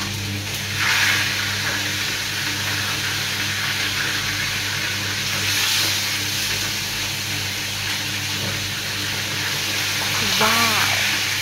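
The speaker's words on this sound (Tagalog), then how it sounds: "pag-start na tayo mag-prito" Tuna fish sizzles and crackles steadily in oil in a pan nearby, a constant frying hiss with brief bits of voice over it.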